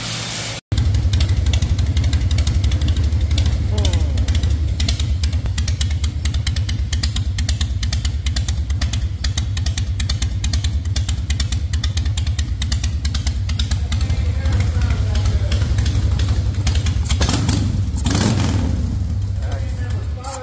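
A Harley-Davidson Fatboy motorcycle engine runs loud and close after winter storage, holding a steady lumpy idle for most of the stretch with a brief rev near the end.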